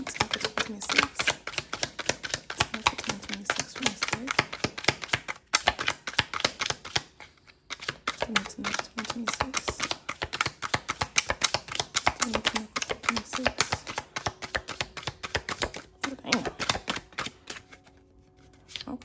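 Tarot cards shuffled repeatedly in quick riffling bursts with brief pauses between rounds, close and crisp, with a voice speaking quietly at times.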